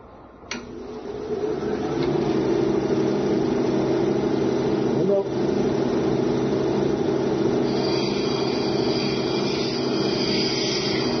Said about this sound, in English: Now I'm going to go on to the 220 grit and start with that wheel